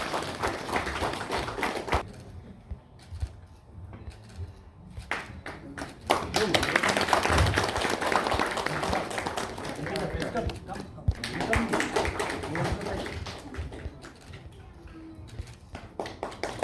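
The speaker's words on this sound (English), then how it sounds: "Shower him with your applause." An audience at a convocation and award ceremony in Bangalore applauds in a large hall, with sustained clapping that swells and fades in waves, while a loud voice talks over it.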